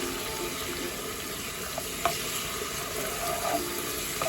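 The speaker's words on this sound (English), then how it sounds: "Going to allow this to fry until golden brown." Plenty of garlic fries in a curry pan for a king prawn bhuna, a soft, steady sizzle with faint clicks and scrapes and no voices.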